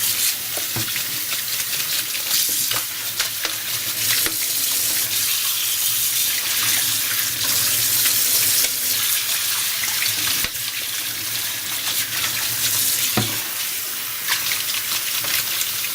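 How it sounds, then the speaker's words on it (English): Water gushes steadily from a tap, splashing and hissing through a colander of noodles, with occasional knocks and clatters as they're shaken. "pour this into our colander and we're gonna rinse it generously with some cold water"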